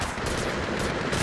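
Loud, continuous automatic gunfire in Apex Legends Mobile, with dense rapid bursts of enemy shots filling the whole moment with no pause.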